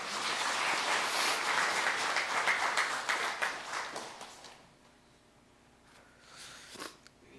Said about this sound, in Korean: 우리 찬양대원들에게 다시 한번 힘찬 박수